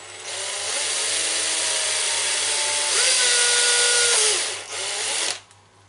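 An electric drill fitted with a 2.5 mm bit drills carefully into a part while dismantling a Team C TR8 model, whining at a steady pitch close up for about five seconds, rising briefly before stopping.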